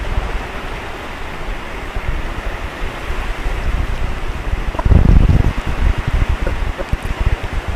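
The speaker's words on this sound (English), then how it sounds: "Holy moly, it's windy." Strong wind roars steadily across the coast of an estuary near old viaduct remains, a loud broadband rush with a heavier gust about midway and no talking.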